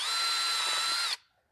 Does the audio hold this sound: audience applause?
no